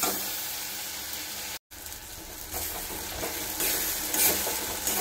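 Steady sizzling of paste frying in hot oil, a continuous crackling hiss with a brief cut partway through, no voices.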